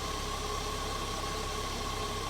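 A car engine with early Bosch CIS mechanical fuel injection runs steadily at idle, a close, even hum with a faint vibrating buzz and no speech over it.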